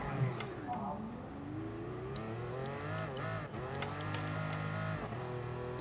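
Toyota Supra engine in GT Sport, a steady droning hum with shifting pitch as it revs and settles, continuous throughout with a voice talking over it.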